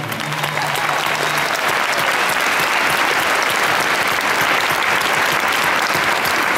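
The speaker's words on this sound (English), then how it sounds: "So a big applause for them, really" A concert audience gives sustained, loud, dense applause for the band's crew, an even wash of many hands clapping from start to finish with no talk over it.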